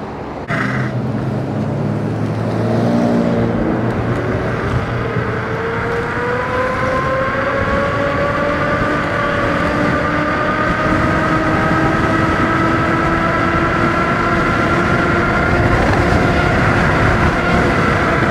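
Mantis King GT electric scooter at about 45 mph, a motor whine rising steadily in pitch as it accelerates, over loud continuous wind and road rush with no voices.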